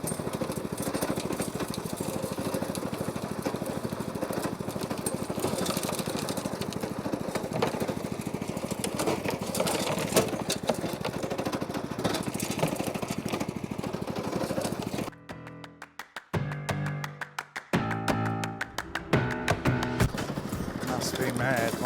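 A power rake clears stones from a lawn, a loud steady engine drone with rattling tines for about fifteen seconds, then stopping and restarting in choppy, uneven bursts.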